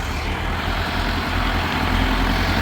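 A tractor engine runs at a work site where loaders are being dismantled for parts, a steady low idling rumble with a constant drone and no talking over it.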